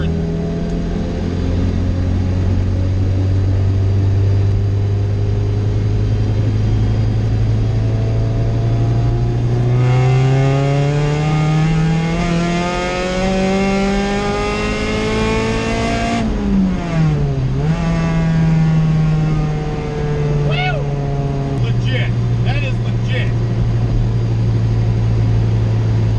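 A B20 VTEC-powered car fitted with a Jackson Racing supercharger accelerates hard through the gears, its engine droning loudly and climbing in pitch with supercharger whine, dipping briefly at a shift before pulling again.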